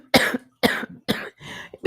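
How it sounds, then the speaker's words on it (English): Four harsh, close coughs from one person, evenly spaced about half a second apart, with the last one a little softer and more drawn out. "Because I'm coughing."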